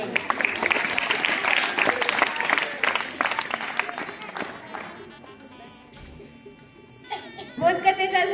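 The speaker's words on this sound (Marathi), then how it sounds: "हा, टाळ्या वाजवायच्या सगळ्यांनी" Students at a school morning assembly clap together, a dense burst of applause over the first few seconds that thins out, followed by quieter room sound and a voice near the end.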